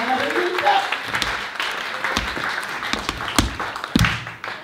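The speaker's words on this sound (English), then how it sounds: "Round of applause for that." Audience applause during an interview event about swing dancing, a spread of claps with a few sharp louder ones standing out and a voice briefly heard at the start.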